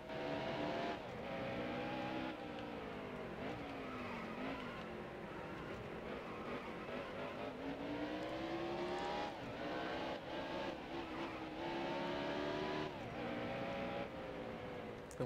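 A stock car's engine in NASCAR Heat Evolution at Sonoma drones and revs continuously, its pitch sliding down and back up as the car spins out and recovers, steady and moderately loud throughout.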